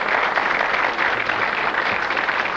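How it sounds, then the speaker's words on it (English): A TV quiz show studio audience gives a sustained, dense round of applause from a full house, steady and fairly loud throughout with no talk over it. "A round of applause for Arthur."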